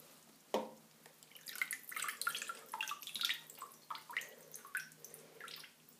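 Water is poured over a Mustek camcorder in a water test, starting with a sharp knock and then quiet irregular splashes and drips trickling close by for several seconds, with no voices.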